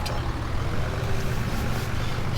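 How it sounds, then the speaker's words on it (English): A huge all-wheel-steering tractor in Farming Simulator 17 runs steadily, its deep low engine rumble droning close and continuous with no speech over it. "Do love this tractor."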